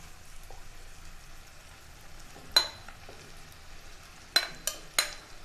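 Soya chunks are stirred into thick masala in a hot pan, a soft continuous sizzle broken by a few sharp spoon scrapes and clanks, close by, with no talking.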